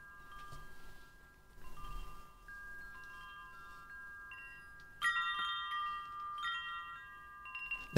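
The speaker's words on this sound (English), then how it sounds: "This is the sound of wind chimes." Wind chimes ring with clear sustained metallic tones, a few scattered strikes early on, then a brighter, denser cluster of overlapping chimes later that lingers and fades, heard alone without talk.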